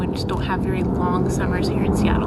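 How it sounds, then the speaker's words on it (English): A steady low drone of an airplane passing overhead in Seattle sits beneath someone talking outdoors in a garden. "Sorry about the airplane noise."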